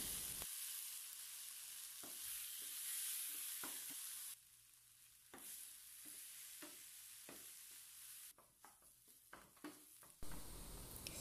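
Sliced banana sautéed in a pan for an iftar banana roll snack, a soft continuous sizzle punctuated by repeated spatula taps and scrapes at an irregular pace, close by with no speech.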